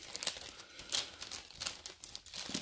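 A plastic bag crinkles up close as miniature sprues are handled and packed away, quiet bursts of crackling and rustling in an uneven rhythm, with no talking.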